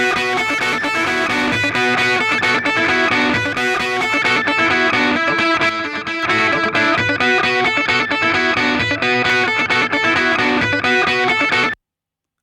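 Distorted electric guitar through the RC20 plugin, thick and full with a rounded top end, strummed steadily and loudly for the whole stretch, no voices, cutting off sharply at the end.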